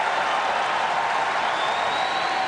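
A tennis crowd at an exhibition match in Macau, China, applauding a winning shot: dense, continuous clapping and cheering that holds at an even, loud level throughout.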